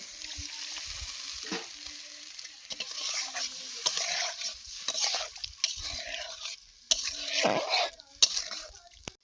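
Fish curry gravy with potatoes simmers in a pan, giving a soft bubbling sizzle broken by scraping stirs and light clinks of a utensil against the pot, with no voices heard.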